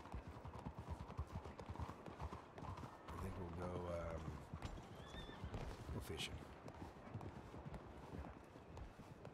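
A horse's hooves clop steadily in the Red Dead Redemption 2 game during roleplay, and a loud whinny rises midway. Someone talks over the hoofbeats.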